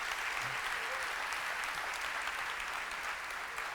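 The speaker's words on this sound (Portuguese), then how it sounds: "pode aplaudir." A church congregation applauding, a dense, even roar of clapping from many hands that holds steady and fairly loud for the whole stretch.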